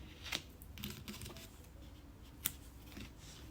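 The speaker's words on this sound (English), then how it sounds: "and I cut the yarn" Scissors snip crochet yarn close by at low level, giving a few short sharp clicks and crisp cuts with small rustles between them and no talking.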